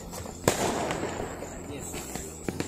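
A Tarzan firecracker bursts during Diwali with a sharp close crack followed by a crackling, fizzing spray and a few smaller pops, faint voices in the background.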